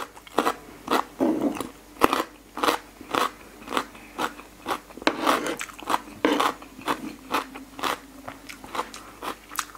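Close, loud crunching as someone bites and chews crispy fried mala chicken tails, with regular rhythmic crunches every half second or so and no talking.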